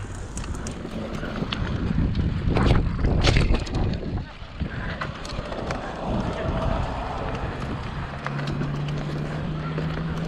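Strong wind gusts roar and buffet the microphone outdoors in a steady, loud rumble throughout, with faint voices now and then.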